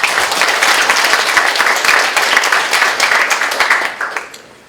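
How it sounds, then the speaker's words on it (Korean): An academic conference audience applauds to welcome a philosophy professor presenting a paper, dense steady clapping filling the room before tapering off at the end. "박수로 맞이해주시기 바랍니다"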